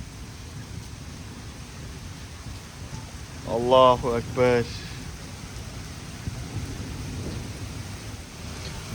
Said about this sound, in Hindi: अचानक से काली घटाएं और तेज़ बारिश शुरू हो चुकी है